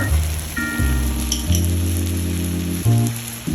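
Prawn roast masala with turmeric sautés in a pan Kerala style, giving a steady, close sizzle and frying hiss throughout with tonal background music playing underneath.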